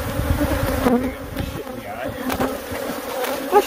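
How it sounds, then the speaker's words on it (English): Bees buzz steadily and close up around a person trying to net them, a dense insect drone that holds for several seconds with faint handling noises underneath. "There's killer bees everywhere."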